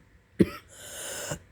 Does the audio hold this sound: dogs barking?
no